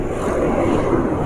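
A motorcycle engine running on Eni 20W50 Super JASO MA2 oil gives off a loud, steady drone at sustained revs, with faint wind rush and no voices.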